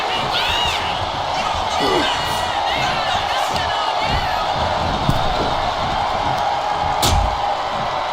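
Arena crowd noise from a WWE 2K25 wrestling match, a steady roar of cheering spectators that swells as a wrestler rallies the audience, with occasional sharp impact thuds and commentary murmuring underneath.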